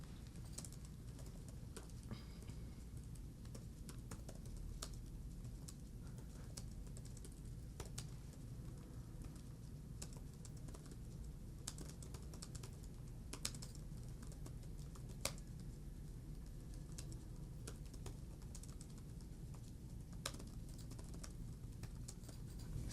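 Fast typing on a computer keyboard, a steady stream of quiet close key clicks going on for a long stretch, with faint bird cooing in the background.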